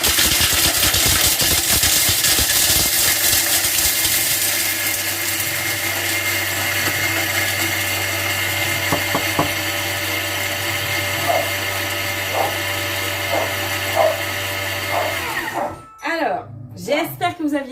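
A kitchen blender whirs loudly at speed 8, mixing chocolate in a harsh, continuous roar for about fifteen seconds before cutting off, followed by brief speech.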